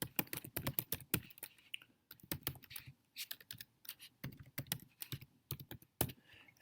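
Someone types an email address and password on a computer keyboard, producing quick irregular key clicks in clustered bursts with brief pauses, close and quiet, and no one speaking.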